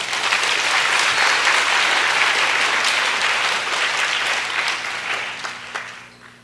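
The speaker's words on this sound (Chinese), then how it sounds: "那大家给赞助商一个掌声好不好？" A conference audience at the COSCUP 2015 closing ceremony claps for the sponsors, dense, loud applause filling the room before gradually thinning out near the end.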